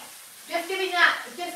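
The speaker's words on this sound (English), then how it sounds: "I can hear sizzling in the background." Vegetables sizzle in a pan during a home cooking session, a faint soft hiss with a muffled voice partly over it.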